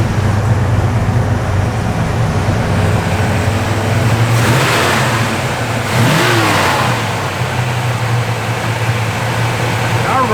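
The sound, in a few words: 1964 Chevrolet Malibu engine running and revving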